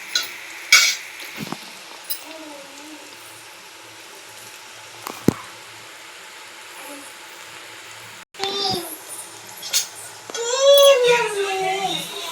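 Onions fry in a pan with salt, chilli and turmeric for an egg fry, a low, steady sizzle with occasional sharp stirring taps, while voices, including what sounds like a child, talk over it.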